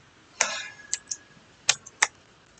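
Keys on a computer keyboard are typed in a few quick, sharp clicks, spaced irregularly and heard close, with no one speaking.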